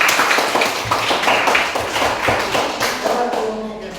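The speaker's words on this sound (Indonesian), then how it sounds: "Mari kita tepuk tangan" A classroom of students claps for a student group, with loose, uneven clapping that has distinct individual claps and thuds, close and fairly loud, fading toward the end as faint voices come in.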